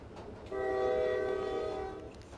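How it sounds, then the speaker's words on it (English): A single steady steam train whistle in the Roblox game Jailbreak blows for about one and a half seconds, clear and fairly loud against light background noise. "a steam train whistles"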